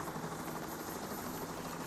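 Helicopter in the Payday: The Heist video game, a steady continuous rotor drone with a broad wash of noise, fairly quiet and unbroken across the short stretch with no talking.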